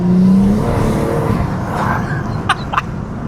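A loud turbocharged engine on a stage 3 BMW M140i drones and revs up close, then eases off, followed by two short sharp hissing bursts of turbo blow-off.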